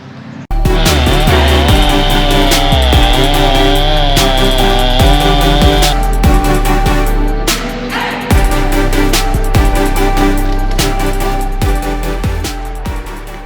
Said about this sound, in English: So, it's a good thing we have a nice gas chainsaw